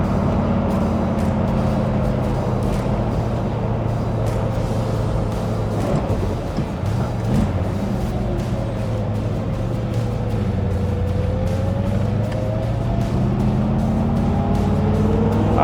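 A 1972 Heavy Chevy V8 cruising on a back road, a loud, steady, throaty engine rumble heard close up from inside, with small pitch rises and falls as the throttle changes.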